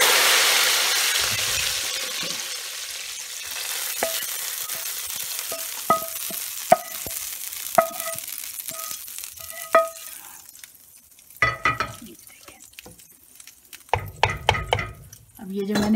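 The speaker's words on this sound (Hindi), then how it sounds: "ये अब मैं इसमें भगार डाल रही हूँ" Hot tempering hits a pot of daal makhani with a loud hissing sizzle that slowly fades, followed by scattered metallic clinks of a spoon stirring against the pot.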